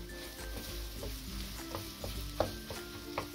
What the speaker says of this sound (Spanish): a un ladito voy a agregar el chorizo. Y voy a dejar que quede doradito el chorizo.